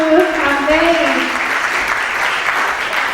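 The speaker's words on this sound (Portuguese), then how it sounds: "Você pode aplaudir o Senhor pela vida deles." A church congregation claps during a worship service, loud dense applause that carries on steadily, with a faint sung or sustained tone at the start beneath the clapping.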